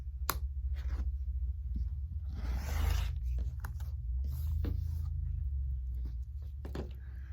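A rotary or straight cutter slices down a quilt block on a cutting mat, giving a soft scraping drag in the middle amid faint rustles and light taps, recorded close and quiet.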